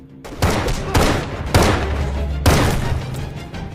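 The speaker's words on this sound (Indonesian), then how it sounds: "aksi tembak-tembakan Arthur dan Steve melawan para bodyguard Andrew pun tak bisa dihindari." Gunfire rings out in a film shootout against bodyguards: four heavy, booming shots spaced about a second apart, each with a ringing tail and a low rumble underneath.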